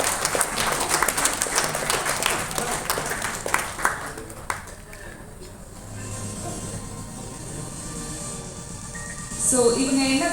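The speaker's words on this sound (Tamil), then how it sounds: "Once again, நல்ல ஒரு பலத்த கைத்தட்டல் கொடுக்கலாம்." An audience at a nutrition event applauds with dense, crackling clapping that fades after a few seconds. A voice speaks over the later part, and there is a faint tonal ping near the end.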